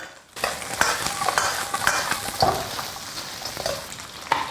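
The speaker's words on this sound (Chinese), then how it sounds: "把锅支好后，下入牛骨头，给它煸炒一下" Beef bones stir-frying with spices in hot rapeseed oil in a wok, a steady crackling sizzle broken by sharp clinks and scrapes of a spatula, close and fairly loud.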